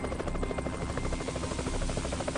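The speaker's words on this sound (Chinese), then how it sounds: "是直升机！" Helicopter in an animated series, a steady rapid thudding of rotor blades with buzzing engine drone, fairly faint and alone without speech.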